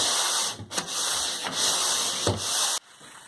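Steady rasping of sanding against an interior wall before painting, broken into several long strokes with brief pauses, close and fairly loud.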